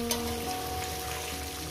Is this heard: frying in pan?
yes